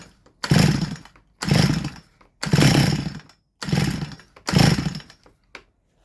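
A Stihl MS170 chainsaw is pull-started five times in a steady rhythm, each close, loud burst of cranking lasting under a second and separated by short silences, without settling into a running idle.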